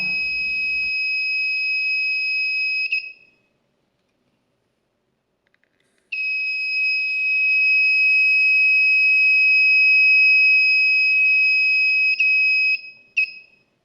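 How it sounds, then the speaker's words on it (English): A loud, piercing electronic buzzer tone from an Arduino LPG gas leak detector sounds for about three seconds, stops, then returns steadily for several more seconds before cutting off with a short final chirp. "warning is given by displaying high levels of butane on OLED display with the buzzer and LED turned on"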